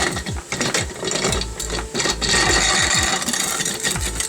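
Grain is ground for brewing a lemon witbier, a busy, close rhythmic ratcheting and crunching that keeps a rapid, uneven clatter throughout with no talk.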